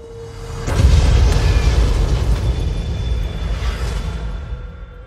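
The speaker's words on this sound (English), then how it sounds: "An explosion rocked the city today." A big explosion from a film trailer erupts suddenly and keeps rumbling loud and dense for several seconds, a deep roar that slowly fades without any voices.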